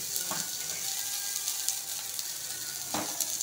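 Coriander leaves sautéing in a pan as part of an instant idli batter recipe, a steady close sizzle with a couple of soft stirring scrapes and no speech.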